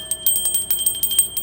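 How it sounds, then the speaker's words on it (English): A small bell rings in a rapid series of bright dings, a dozen or so clear strikes with sustained ringing tones behind them. "I got a bell."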